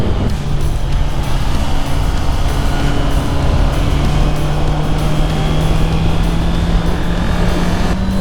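A steady motorcycle engine drone with rushing wind noise, its pitch slowly climbing as the bike speeds along a winding mountain pass road, Passo Penice. No one speaks.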